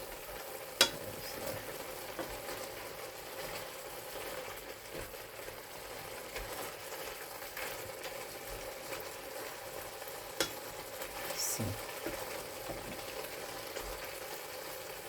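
A home-cooked dish is stirred in a pan over a low, steady sizzle. Soft scraping and clinking stand out above the constant frying hiss, quiet and close, with no talking.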